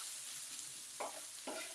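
Garlic and onions sizzling in a pan, a faint continuous hiss of frying with two short stirring bursts near the end.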